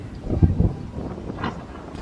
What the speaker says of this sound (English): It's quite windy out here.